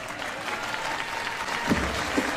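A sold-out crowd at Studio Coast applauds both main-event fighters after a fight round, a steady wash of clapping at moderate distance with a few louder voices rising near the end.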